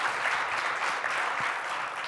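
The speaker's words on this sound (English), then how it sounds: "If we can give them a quick round of applause." Brief, even burst of audience applause for presenters at a talk on VR campaigns, continuous and moderately loud with no speech over it.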